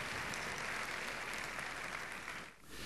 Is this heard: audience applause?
yes